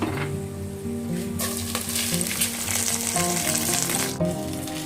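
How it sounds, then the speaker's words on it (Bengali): Bay leaves and black peppercorns, with cinnamon, cardamom and cloves, sizzle in hot oil for tandoori chicken polao, a steady close crackle that grows louder after the first second and runs alone without talk. "তেজপাতা আর কালো গোলমরিচ কয়েকটা, একটু ভেজে নিব"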